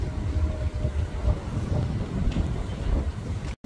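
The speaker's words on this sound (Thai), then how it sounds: "ได้ยินเสียงลมไหมคะแฟนทางบ้าน" Outdoor wind buffets the microphone in a steady low rumbling roar that swells and dips, with a momentary dropout near the end and no speech.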